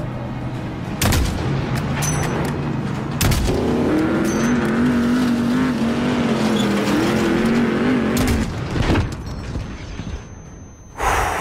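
A suicide truck's engine roars in the Modern Warfare video game, a loud continuous rumble with a wavering drone, broken by sharp gunfire and explosion-like bursts that builds and then drops off near the end.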